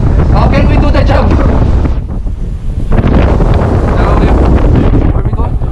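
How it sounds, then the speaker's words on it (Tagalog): Strong wind at sea buffets the microphone in loud, roaring gusts aboard a ship, with a brief lull in the middle and water and boat noise beneath. "too much strong wind. Very strong"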